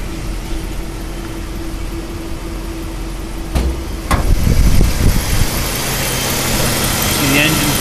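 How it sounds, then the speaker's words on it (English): A 1962 Cadillac engine idles steadily with the hood open, giving a close, even low rumble, with a sharp clunk partway through and a voice talking alongside. "we got a 62 Cadillac, got it running for you. You can hear it run."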